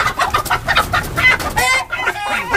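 A rooster in a chicken coop on a ranch clucks and calls repeatedly at close range, loud, agitated bursts with no talking over them.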